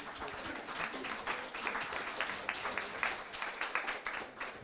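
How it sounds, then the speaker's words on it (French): An audience at a French talk on retirees' free time applauds a speaker: steady, dense clapping from many hands throughout, moderately loud in a room. "Vous pouvez l'applaudir"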